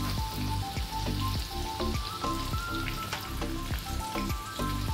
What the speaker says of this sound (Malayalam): നമുക്കിത് നന്നായിട്ടൊന്ന് ഫ്രൈ